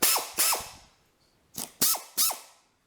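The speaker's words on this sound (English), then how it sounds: "there's the tap, and it's in a 3/8 adapter, 3/8 ratchet adapter" Ratchet driving a tap through a 3/8 ratchet adapter while threading holes on a welding table, heard as five sharp, close ratcheting strokes in two groups with a short pause between.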